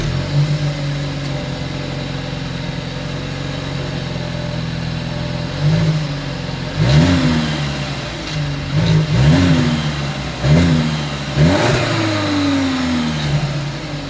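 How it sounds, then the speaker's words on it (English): A 2022 Volkswagen Passat engine idles steadily, then revs sharply four times in a row, the exhaust roaring up and dropping back between each blip, close by. "As always, here is that exhaust clip."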